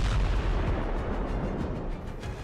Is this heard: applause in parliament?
no